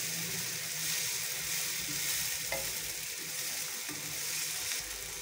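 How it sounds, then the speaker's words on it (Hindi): Tomato paste made from two tomatoes frying in oil, a dense continuous sizzle close by with faint stirring clicks. "टमाटर के 2 टमाटर लिए हमने, उसका पेस्ट बनाया। इसको फ्राई करते हैं ऑयल में।"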